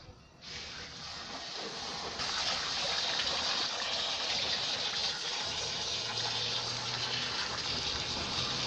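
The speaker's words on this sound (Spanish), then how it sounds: "Estamos viendo que el agua sale sucia." Water runs steadily while rinsing potting debris from Masdevallia deformis orchid roots through a strainer, a continuous close hissing gush lasting the whole stretch with a faint low hum joining near the end.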